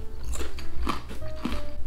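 Thin rectangular strips of spicy Taiwanese cracker are chewed up close, with loud, irregular crunching bites and crackles spread over about two seconds.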